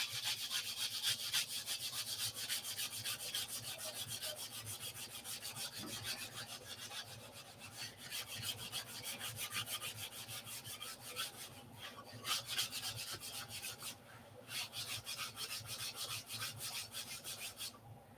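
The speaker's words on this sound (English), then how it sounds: "I sanded at a 45 to the grain." Steady hand sanding of a wooden part for P-47 aircraft flaps, worked at a 45-degree angle to the grain; continuous close rubbing and rasping strokes with a fairly even rhythm, no talking.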